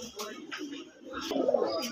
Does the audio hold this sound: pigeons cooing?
yes